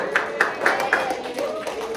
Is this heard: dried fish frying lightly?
no